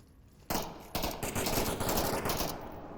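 Gunfire in the VR shooter Onward during a competitive VRML match, bursts of rapid automatic shots starting abruptly and continuing as dense, sharp cracks, fairly loud and close with no talk.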